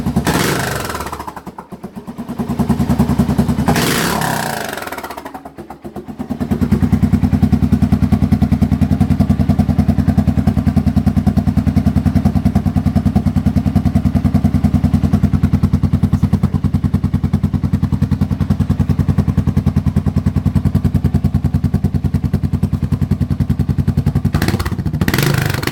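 A 2008 Suzuki S40 motorcycle with an Emgo short reverse cone muffler gives a few loud revs, then settles into a steady, deep, thumping idle for a long stretch before rising again at the end.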